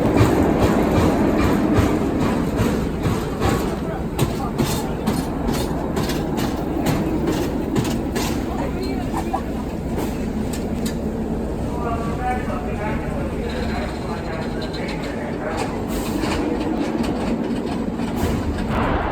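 Gold Rusher roller coaster at Six Flags Magic Mountain, riding near the back: a loud, continuous rumble with rapid clattering wheels and rattling cars, wind roar, and voices shouting and talking throughout.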